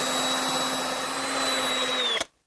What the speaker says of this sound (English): So we'll just carefully start the drill up and trim it down until it's flush.